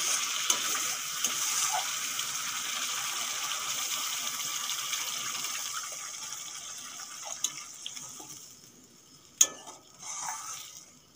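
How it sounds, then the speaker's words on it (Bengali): Water being poured into a pan of potato curry (aloo dum) after yogurt has been cooked down in oil: a continuous gushing hiss that slowly fades, ending in a few clinks and a short burst of sizzle. "এখন আমি জল দিয়ে দেবো।"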